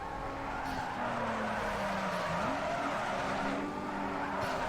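A Ford Mustang drifts in Need for Speed Underground 2, its tires squealing in long wavering skids over a steady engine roar, close and continuous with no voices.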